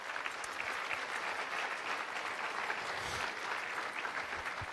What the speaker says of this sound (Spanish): aplaudamos fuerte, hermanos